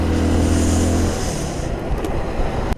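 A car speeds along the road toward Ooty, a loud steady engine and road roar heard from inside the vehicle, with a faint click near the end.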